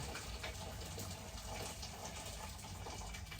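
Hot water pours from a kettle while ogbono soup is being made, a faint but steady watery gush that continues for a few seconds with no talking.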